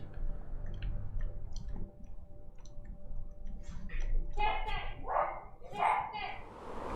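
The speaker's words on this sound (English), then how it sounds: "Somebody's out with that dog outside, so if you can hear that." A dog barks outdoors, heard from inside a room as a few muffled, distant barks in the second half over a low background hum.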